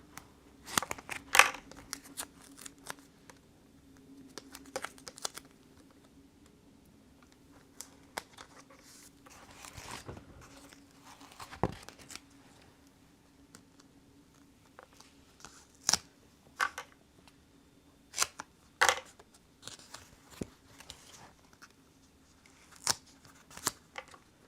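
Sharp, irregular snips of scissors cutting through foam, scattered across the clip with quiet pauses between, close by, over a low steady hum.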